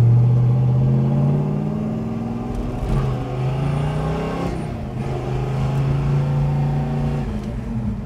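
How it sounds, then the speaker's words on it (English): A 1966 Chevrolet Malibu Chevelle with a 327 V8 idles with a rhythmic, loping rumble from an aggressive cam, close and steady throughout with slight surges. "It's got a beautiful stout 327 with a lot of horsepower. It sounds like it has a great cam in it because it's got a nice lope."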